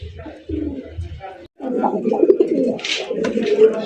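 Fancy racer Golla pigeons coo in a few soft, throaty pulses, close by, followed by fuller, busier cooing and rustling, without anyone talking.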